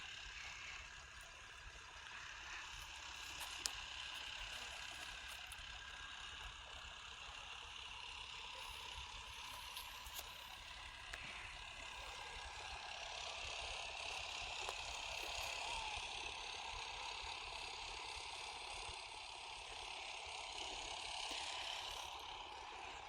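A farm water pump engine running steadily at a distance in a field, a faint continuous mechanical drone with a slight rise in the middle.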